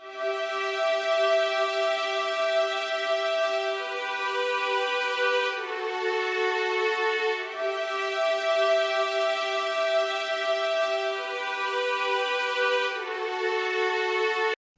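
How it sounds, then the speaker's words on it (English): A dry violin from FL Studio with no effects plays long, sustained bowed notes that shift pitch every couple of seconds in a steady, unbroken line, alone and fairly loud. "we have a violin here without any effects"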